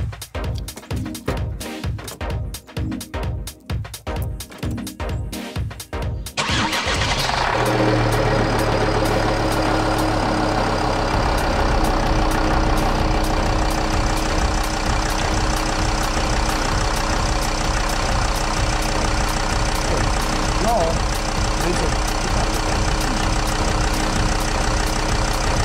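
A 2010 VW Crafter van engine cranks and starts with a rapid churning rhythm, then settles into a loud, steady idle with a persistent rattling knock running underneath, close and continuous.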